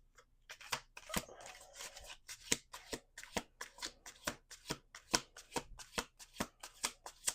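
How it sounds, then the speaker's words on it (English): Tarot cards riffled in a rapid, even run of crisp flicks, close and fairly loud, with no talking over them. "last shuffle."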